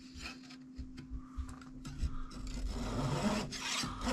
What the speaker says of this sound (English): I'm going to see about using the back saw to cut it, the miter box.